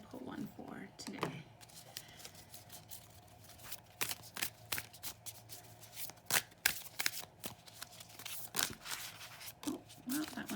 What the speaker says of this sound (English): we'll look that up after I shuffle and pull one for today.